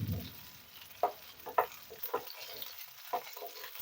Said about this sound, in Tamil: ஒரு 15 சின்ன வெங்காயம் எடுத்து முழுசா வச்சிருக்கிறது எண்ணெயில போட்டு வதக்கிடலாம்.